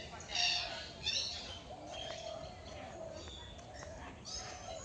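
Birds in an iron-netted aviary with peacocks at Bethuadahari Forest wildlife sanctuary, West Bengal, give faint, distant chirps and short calls, a couple of brighter bursts early on, over a soft ambient hiss.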